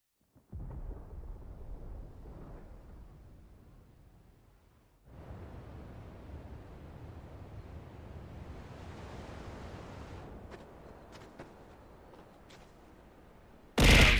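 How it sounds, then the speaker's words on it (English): Thunder in the video game Final Fantasy XVI: a low rolling rumble that fades, then a long second roll of rain-like noise, ending in a short sharp burst, no talk. "Sounds like thunder."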